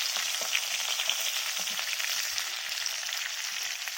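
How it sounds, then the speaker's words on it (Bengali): Cauliflower florets fry in mustard oil in a pan, a constant crackling sizzle with small pops and light stirring scrapes, close and without any talking. "আমি রান্না করছি ফুলকপির এক নতুন রেসিপি, কিন্তু সর্ষের তেলে। ফুলকপিগুলো লাল করে ভাজা হয়ে গিয়েছে।"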